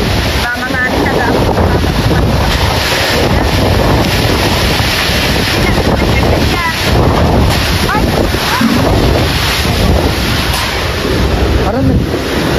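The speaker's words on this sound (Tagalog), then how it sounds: "Grabe ang lakas ng hangin po." Strong typhoon wind roars and buffets the microphone continuously near a seaside hut, with rushing gusts and surf-like noise throughout and no clear speech.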